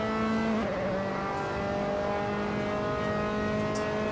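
A Dallara F312 race car engine in a racing video game drones steadily at high revs through a carousel corner, a continuous loud buzzing tone with slight pitch shifts and no talk.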